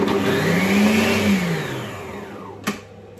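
A Mambo kitchen robot giving a turbo pulse while mincing food for savory muffins, a loud motor whir that rises in pitch and then spins down, followed by a short knock.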